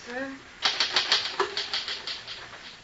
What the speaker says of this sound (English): Finish typing it and I'll sign it.